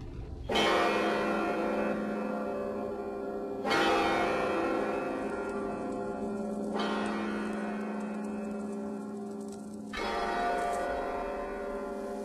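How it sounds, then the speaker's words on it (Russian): A large cast church bell struck four times at slow, even intervals, each loud ringing stroke with a long, humming decay that overlaps the next, with no voices. "И звонят звонари во спасение душ наших."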